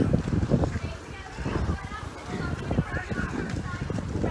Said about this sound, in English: Oh, and there's a horse on the towpath.